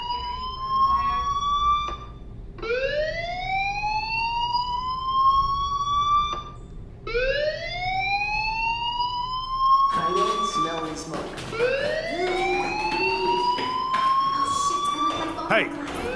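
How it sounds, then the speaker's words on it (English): A school fire alarm in the video game Life is Strange, a repeating rising electronic siren whoop that sweeps upward several times, loud and close, with a denser layered section near the end. "Hey, do you hear that fire alarm? That means you should be outside."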